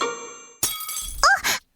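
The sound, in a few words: glass breaking, cartoon sound effect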